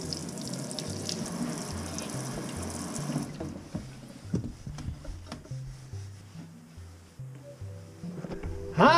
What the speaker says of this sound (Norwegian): så kan jeg ta litt varmt vann